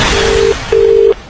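Telephone line tone after a dropped call, two steady electronic beeps, the first about 0.4 seconds and the second about 0.4 seconds after a short gap, loud and close with no talking.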